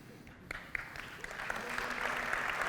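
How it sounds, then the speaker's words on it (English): An audience at a tech conference opening talk breaks into applause, building from a few scattered claps into sustained, dense clapping. "Oh, that was not my intention to create an applause"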